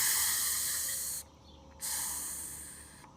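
Garden pump sprayer nozzle twisted and released, hissing out a fine mist in a loud steady spray that cuts off briefly midway, then resumes and fades.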